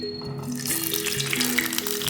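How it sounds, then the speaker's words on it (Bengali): Eight boiled eggs go into hot mustard oil in a pan and start frying, giving a close, steady sizzle and crackle with light clinks and shifting over a faint background hum. "তেল গরম হয়ে গেছে, এবার এতে সেদ্ধ করে রাখা 8টা ডিম দিয়ে দেবো"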